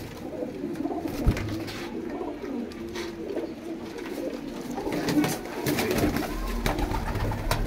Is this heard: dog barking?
no